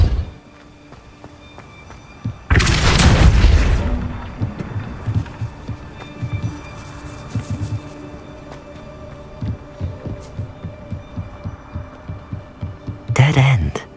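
A Depulso force spell in Hogwarts Legacy bursts out with a loud, broad whoosh-and-thump, followed by rumbling, throbbing game ambience and scattered impacts, with a second sharp burst near the end.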